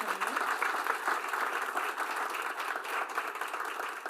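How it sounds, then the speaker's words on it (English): Audience applause at a school district board meeting, a dense steady wash of clapping from a room of people lasting about four seconds, with faint voices beneath. "Go ahead and give her a round of applause."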